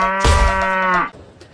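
A cow or buffalo lets out a single loud, drawn-out moo lasting about a second, close by on a riverside path in the hills near a hanging bridge, followed by quiet.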